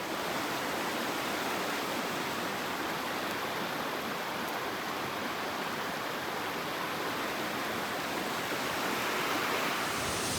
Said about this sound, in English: took a little excursion to see a beautiful waterfall